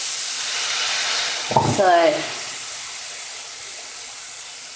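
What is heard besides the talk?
black seeds toasting in a hot pan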